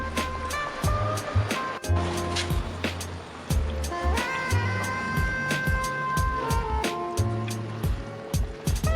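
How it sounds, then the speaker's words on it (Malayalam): Vaala fish curry simmers gently in a pot on the stove over a low flame, giving off irregular soft bubbling pops and gurgles close by, with no talking. "ഇതേ ഫ്ലെയിമിൽ പതുക്കെ ഒന്ന് തിളപ്പിച്ചുകൊണ്ടിരിക്കാം"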